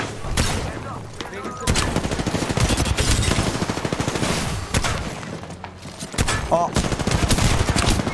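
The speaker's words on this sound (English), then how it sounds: "I tracked him well with my gun, but I missed my two massive shots." Bursts of automatic gunfire crack in an Apex Legends ranked match, a long dense rattle of close shots with short pauses, while a man briefly exclaims over the firing.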